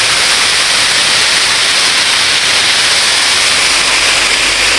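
Strong water rushes loudly and continuously through a canal, a dense, steady roar with no breaks.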